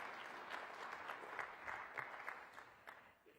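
An audience at a motivational speaking event claps together in a faint, distant wash of applause that tapers off toward the end.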